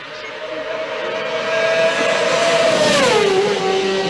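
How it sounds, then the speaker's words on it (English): Superbikes with over 200 brake horsepower race at the Isle of Man TT, a loud engine whine holding a steady pitch then dropping sharply as a machine passes close and fades away. "super bikes with more than 200 brake horsepower"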